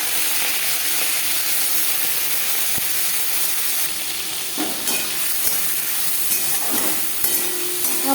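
Prawns fry and sizzle in hot oil with bay leaf, whole cumin and dried chilli for a Bengali lau chingri, a steady loud hiss broken by a few stirring clinks and scrapes, with no talking.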